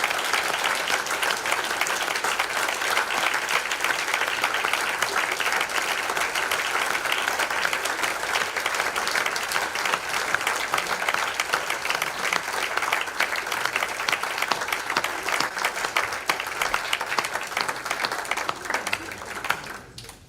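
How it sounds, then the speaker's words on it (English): An awards ceremony audience applauds for about twenty seconds, a dense, sustained burst of many hands clapping at a steady loudness that tails off slightly at the very end. "Give them a massive round of applause."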